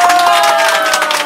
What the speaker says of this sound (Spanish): Démele un aplauso a Jorge Pérez Villanueva.